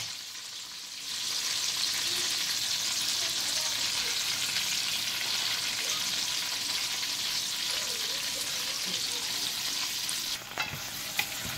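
Tomatoes fry in a pan for tomato pachadi, a loud, even sizzle and hiss that starts abruptly and holds steady, with a stir or clink near the end.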